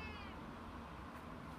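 A house cat meows softly over steady background hiss, one drawn-out, fairly faint call with no talking.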